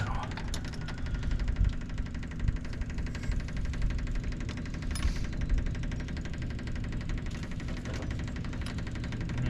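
A Yanmar track dumper's engine runs at a steady, rough idle with a low knocking chug. It is moderately close and continues without a break, with no talk over it.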